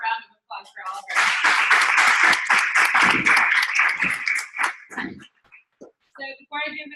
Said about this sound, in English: Let's give one more round of applause for all of our.